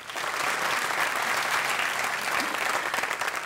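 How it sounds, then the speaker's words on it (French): A ceremony audience at a French-language film awards event claps steadily throughout, a dense wash of applause filling the hall without pause. "Nous allons les applaudir."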